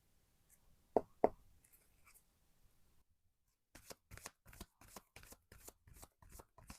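Oracle tarot cards are shuffled and tapped, first two soft knocks, then a quiet run of rapid riffling flicks in a steady rhythm, close and alone.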